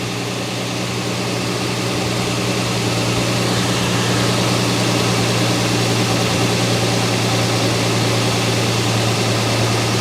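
A 2006 Toyota Tundra's 4.0L V6 idles steadily during a transmission fluid exchange, a constant low engine drone with a smooth hum, close and unbroken for the whole stretch.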